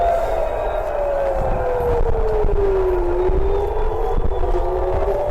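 Air raid sirens wail across an Israeli city, a steady tone that slowly falls and then rises again, sounding continuously over a low background rumble.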